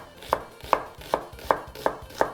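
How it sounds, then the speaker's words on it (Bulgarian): Onion chopped with a knife on a cutting board for Macedonian baked beans, six crisp evenly spaced chops about every third of a second, close and clear with no talking. "Сечкаме лука"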